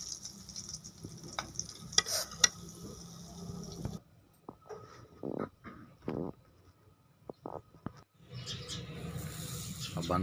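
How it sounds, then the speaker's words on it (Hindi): Chana masala burger patties fry in a pan, a steady sizzle with stirring and scraping clatter that breaks off midway, then short utensil knocks before the frying hiss returns. "इस तरह से इनको फ्राई कर लें।"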